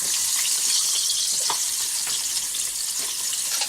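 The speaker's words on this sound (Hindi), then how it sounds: "गरम तेल में ही ये पक जाएगा, तो इसलिए हम डालेंगे पहले करी लीव। इसके बाद हम डालेंगे ग्रीन चिली।" Curry leaves and green chili sizzling in hot oil for poha chivda, a loud, dense, continuous crackling hiss with faint pops, close and steady.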